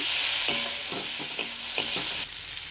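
Chilli soybean being stirred with Kashmiri chilli powder in a frying pan, steady sizzling hiss under a series of about five rhythmic spatula scrapes, close and moderately loud, with no voices.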